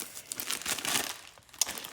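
A bag of chocolate chips is cut open with a knife in a home kitchen, giving close, busy crinkling and rustling of plastic packaging with a short tearing burst near the end.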